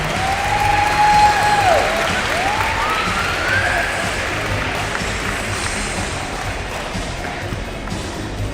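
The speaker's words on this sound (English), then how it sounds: "Let's give a round of applause." Audience applause for a ladies all-tournament team at a county basketball finals, a steady wash of clapping from a crowd in a large gym, fairly even throughout with a faint voice briefly over it.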